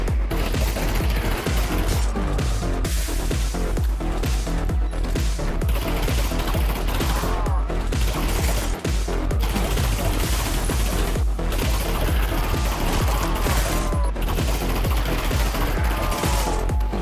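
Gunfire in the VR zombie shooter Pavlov, with dense rapid automatic bursts and single shots crackling continuously at close range, along with mechanical clatter.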